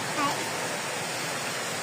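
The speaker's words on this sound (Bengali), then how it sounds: "প্রচন্ড বৃষ্টি হচ্ছে বাইরে" Heavy rain pours down outdoors as a dense, steady rushing hiss with no breaks and no distinct drops, filling the background evenly.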